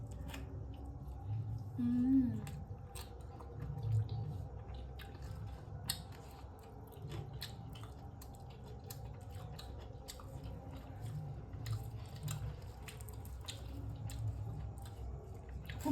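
Close, soft chewing of fried luchi bread with spicy potato curry, wet squishy bites repeating steadily over a low room hum, with no talking.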